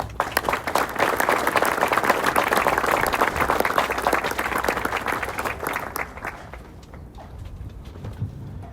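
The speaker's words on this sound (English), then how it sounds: "Please give a round of applause for our distinguished guests." Audience applause for distinguished guests at a military assumption of responsibility ceremony, a dense, steady wash of clapping from a large crowd that holds for about six seconds and then trails off into quiet.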